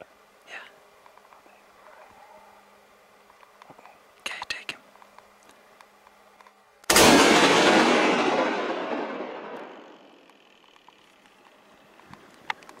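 A single loud rifle shot rings out while hunting mule deer in timber, a sharp crack followed by a long rolling echo that slowly fades, with faint whispering beforehand.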